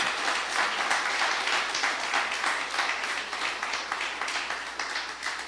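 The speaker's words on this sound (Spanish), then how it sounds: "Dale ese fuerte aplauso a Jesús en esta mañana." A congregation applauds during a Spanish-language Sunday morning church service, steady dense clapping filling the whole stretch at an even level with no voices above it.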